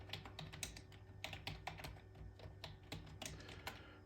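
Fast, uneven tapping on a computer keyboard, light clicks in irregular bursts, quiet and close with a faint steady hum underneath and no speech.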